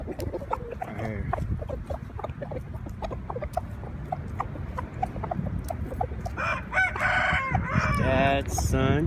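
Thai brood roosters, including Thai mixed with Pama birds, crow loudly and repeatedly near the listener among general yard clucking and background noise, with the strongest crows toward the end.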